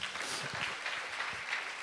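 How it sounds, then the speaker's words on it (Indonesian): A church congregation breaks into applause at the close of a sermon, a soft, distant wash of clapping that stays fairly even and faint throughout. "Berikan tepuk tangan kita untuk Tuhan."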